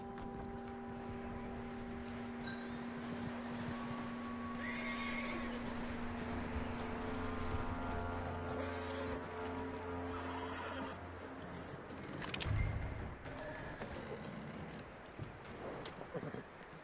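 A horse in the video game Red Dead Redemption 2 lets out a long whinny and clops its hooves against a steady outdoor ambience, with a brief thumping burst near the end.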